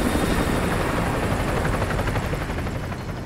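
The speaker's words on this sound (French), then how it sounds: "Un hélico ennemi patrouille dans le périmètre." An enemy helicopter patrols in Call of Duty: Modern Warfare 2 Remastered, its rotor a loud, continuous thudding drone that fills the scene and holds steady throughout, with no voices.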